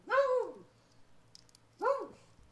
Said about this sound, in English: I love the dog, by the way.